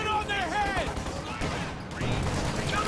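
Anti-tank gun and bazooka fire in a Company of Heroes 2 battle, a dense burst of booming shots and crackling gunfire beneath a commentator talking throughout.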